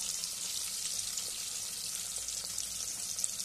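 Onion and tomato sizzle steadily in hot oil with turmeric being added for masoor dal aamti, a dense, even frying hiss that continues unbroken throughout.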